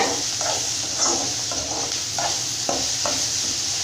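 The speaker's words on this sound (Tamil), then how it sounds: "தேங்காய், வெங்காயம், வெள்ளைப்பூண்டு, மிளகு இது எல்லாமே சீரகம் எல்லாமே சேர்த்துட்டு நல்லா அந்த மாதிரி வதக்கிக்கலாங்க" Coconut, onion, garlic, pepper and cumin sautéing in a pan for a Tamil kulambu, a steady close sizzle broken by soft stirring scrapes every half second or so, with no voices.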